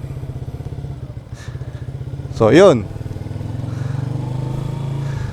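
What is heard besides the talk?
motorcycle riding in first gear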